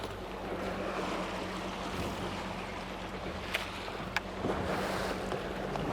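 A fishing boat trolls slowly around a lake while out after northern pike, its steady low engine drone running continuously under wind and lapping water, with a couple of faint knocks along the way.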